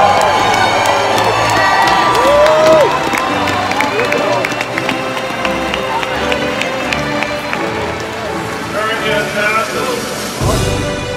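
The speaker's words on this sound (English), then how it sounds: "Clap it out, clap it out." Oak Creek Class of 2019 graduation crowd claps and cheers loudly, with shouts and whoops over sustained applause and a voice talking nearby throughout.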